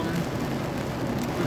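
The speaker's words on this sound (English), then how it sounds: "It's just that it's raining hard every time somebody trying to talk." Heavy rain falls steadily as a dense, even hiss that fills the whole clip with no breaks, fairly close and with no one talking over it.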